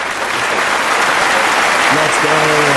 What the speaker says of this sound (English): let's give it a round of applause to Melanie Hanna.